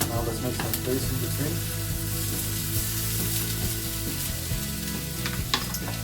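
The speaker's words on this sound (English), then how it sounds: "You should keep frying it for another 3 to 4 minutes." Vegetables and chicken fry in a hot pan with a constant close sizzle, occasional stirring clinks and scrapes on top, and no talking.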